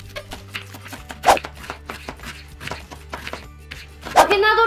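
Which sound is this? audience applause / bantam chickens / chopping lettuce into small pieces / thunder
chopping lettuce into small pieces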